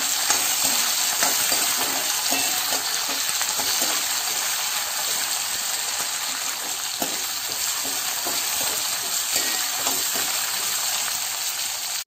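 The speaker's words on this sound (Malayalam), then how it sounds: "ചങ്ങലം മരണ്ട കൂടി ഇട്ട് നമുക്ക് ഒന്ന് വഴറ്റാം കേട്ടോ." Hadjod (Cissus quadrangularis) stems sauté in a pan with a loud, continuous close sizzle, overlaid by frequent scraping and stirring strokes throughout, with no voices.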